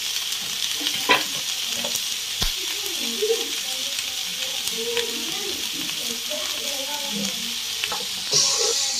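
Spices for a Manchurian dish frying in a pan with salt, black pepper and turmeric, a close hissing sizzle broken by scraping stirs and clinks, with a voice talking faintly at times.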